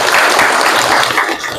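A classroom of students applauds together, a dense, steady burst of clapping that stays loud throughout.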